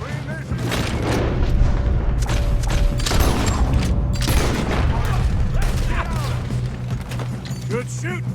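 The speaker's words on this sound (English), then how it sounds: "Good shooting, kid." Western shootout gunfire in the video game Red Dead Redemption 2: loud, repeated booming gunshots scattered across the clip amid mechanical clatter and a constant low rumble.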